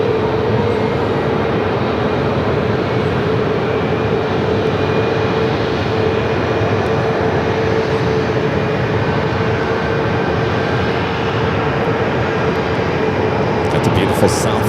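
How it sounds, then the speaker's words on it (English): A Frontier Airbus A320neo airliner rolls down the runway at Phoenix Sky Harbor, giving a loud, continuous engine roar with a steady whine that stays constant throughout, and a voice speaks over it. "Frontier A320 Neo now rolling down to"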